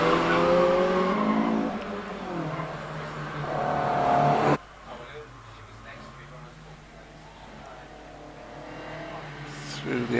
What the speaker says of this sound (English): Now we see Alan Voice in the Triumph GT6, the 2-litre 6-cylinder engine from 1973